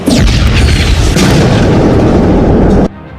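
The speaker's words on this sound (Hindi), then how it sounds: "मिसाइल और रॉकेट लॉन्चर से गोलीबारी उसी बॉर्डर के बेहद करीब हो रही है" Heavy military fire from missiles and rocket launchers near a border sounds as a loud, sustained booming roar that fills the first three seconds before cutting off abruptly, with no talk.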